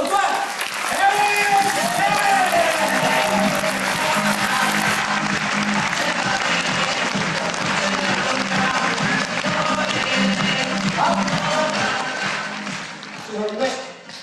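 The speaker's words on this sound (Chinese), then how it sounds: "接下来用热烈的掌声欢迎我的好朋友香港的首钻" A seminar audience at a Taipei diamond presentation breaks into sustained, dense clapping to welcome a guest. Voices mingle with the applause throughout, and it eases off at the end.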